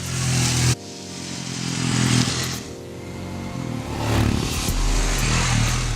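A Royal Enfield Himalayan motorcycle rides on a Chennai racetrack, its engine droning loudly and steadily with rising and falling revs as it passes close by, no talk over it.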